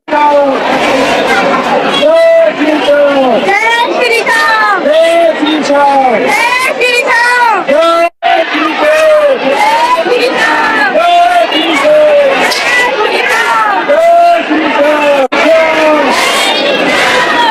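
A dense crowd at the Khatu Shyam temple darshan chants and shouts in rhythmic, repeated waves, loud and continuous, with overlapping voices throughout.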